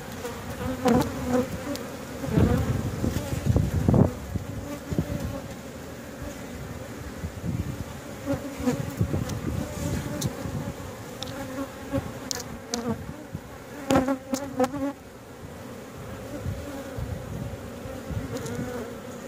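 Honeybees buzz steadily from an open backyard hive under inspection, a dense, continuous hum with brief louder swells as frames are handled, close and alone without talk.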